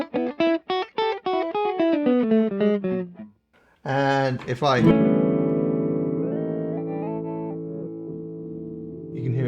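A Chase Bliss Audio Mood MK II pedal warps a played phrase, with stepped notes sliding in pitch, then a swelling smeared wash that sustains and fades; a voice speaks briefly in between.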